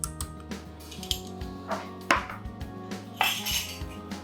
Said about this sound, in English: Alright, give that a stir.